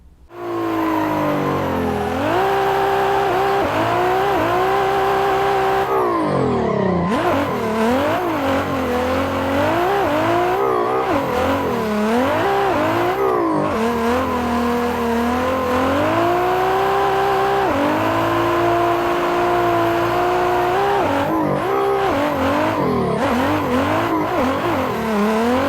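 A race car drifts through a British Drift Championship demo lap in Assetto Corsa, its engine loud and constant, revving up and down through gear changes while the tyres squeal continuously through the slides, with no talk.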